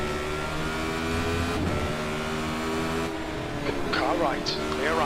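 A steady, near engine drone of race cars at Spa in a Radical championship racing video game, with a rival car alongside, under voices speaking throughout.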